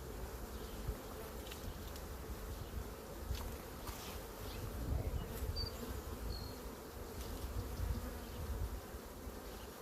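Honey bees swarming and buzzing around an open hive during honey super installation, a dense continuous drone without speech, evenly loud throughout.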